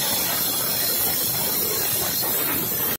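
A pressure cooker whistles steadily on a high gas flame while black chana cooks, a continuous loud hiss that holds for about three seconds before cutting off abruptly.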